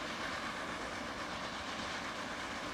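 A train runs steadily in a transport simulation video game, giving a continuous rumbling hiss with faint clickety-clack that stays even and moderately loud throughout.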